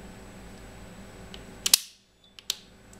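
A 16 A type B circuit breaker trips at 80 A on a test bench, giving one sharp mechanical snap that cuts off a steady hum into silence, followed by a couple of fainter clicks.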